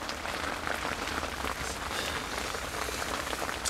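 Rain falls steadily at a lakeside in autumn, a dense, even patter of drops hitting surfaces with no pauses. No one speaks over it.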